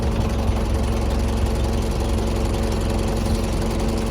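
A Jeep CJ7 engine idles steadily, a rough low rumble at moderate level with no voices over it.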